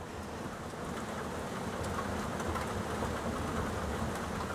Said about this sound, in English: I guess this is the severe thunderstorm we were supposed to be watching for.